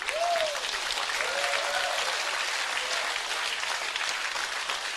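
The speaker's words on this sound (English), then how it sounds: "Come on, give the Lord a big hand." A church congregation at an afternoon retreat session claps together in loud, sustained applause that fills the room evenly for several seconds, with a few faint voices calling out over it.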